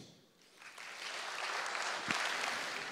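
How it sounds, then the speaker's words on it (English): Applause for a keynote speaker at the J-Fall 2016 Java conference swells from near silence into a steady, dense crowd clapping that holds for a few seconds. "Give him a round of applause, please."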